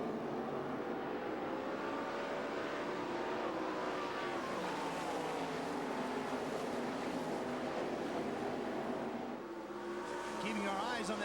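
A field of sprint cars races at the Knoxville Nationals dirt track, engines howling together with rising and falling pitches as they come to the green, loud and continuous, with a commentator talking over the noise.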